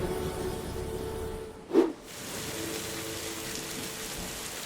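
Heavy rain pours as a sound effect, a constant broadband hiss. Midway a sudden short loud burst cuts through, then the steady downpour resumes.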